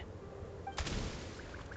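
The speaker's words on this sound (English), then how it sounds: "There's the gunshot. It's go time!" A gunshot rings out in the Genshin Impact video game as one sharp crack partway through, followed by a short ringing tail over a low background hum with faint game tones.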